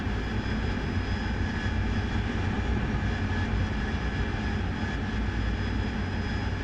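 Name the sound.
aircraft engine in a flight simulator video game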